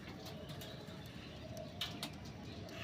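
Malayali pigeons, one white-eyed and one with kanchi-pili eyes, give faint, low cooing that is barely above a steady background hiss, with a few soft rustles and flaps.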